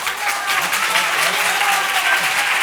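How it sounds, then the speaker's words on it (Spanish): A strong round of audience applause at a tarot congress in Barcelona, dense and loud clapping sustained evenly throughout, with faint voices mixed underneath. "Así que voy a pedir otro fuerte aplauso."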